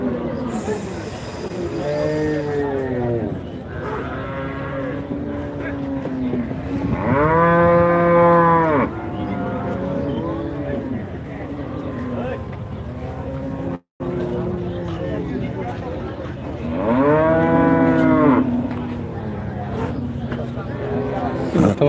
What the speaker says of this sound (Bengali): বিশাল বিশাল ষাঁড় কিনতে পারছি